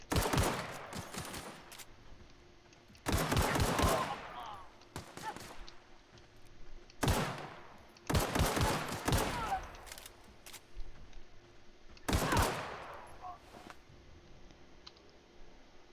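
Bursts of gunfire in The Outer Worlds come in short clusters of sharp shots separated by pauses, fairly quiet overall, with clicking and light keyboard or controller sounds between volleys.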